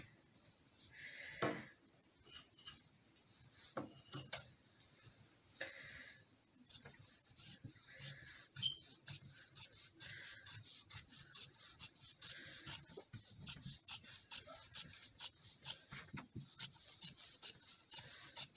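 Fabric pieces for a vintage-style skirt being cut with scissors, a run of short, crisp snips and rasping slices repeating steadily at close range, with rustling of cloth between cuts.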